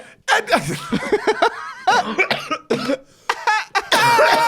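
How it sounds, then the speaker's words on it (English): Someone who is sick laughs and coughs in rough bursts, the coughs breaking up the laughter, close and fairly loud. "every time I laugh, I fucking cough, bro. I'm sick."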